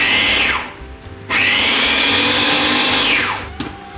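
A BabierBR 501M baby food blender purees steamed food in two loud bursts, a short run that spins down, a brief pause, then a longer steady whirring run that winds down at the end, with no talking.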